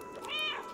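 A cat in the video game Stray gives a single short, clear meow, rising then falling, close and fairly soft.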